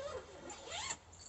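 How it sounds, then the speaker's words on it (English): A zipper is drawn closed on a dog field kennel in one quick pull lasting about a second, close and clear, followed by a faint tug. "zip that."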